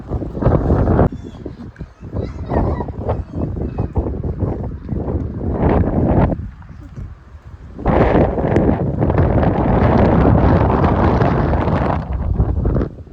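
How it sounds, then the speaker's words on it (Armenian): Strong wind buffets the microphone in heavy, roaring gusts that rise and fall, nearly drowning everything else for the whole stretch. "նենց ուժեղ քամին"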